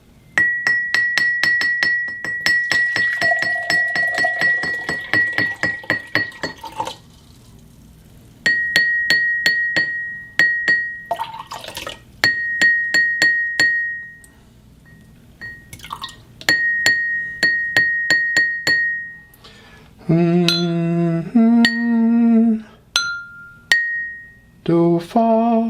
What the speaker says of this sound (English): So without any water in this glass at all, it's almost fa.